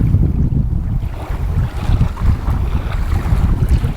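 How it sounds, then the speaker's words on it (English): Strong wind gusts buffet the microphone at a lakeside backcountry campsite, a loud, continuous low rumble with surging gusts and no voices. "Yeah, it's quite windy as you can see."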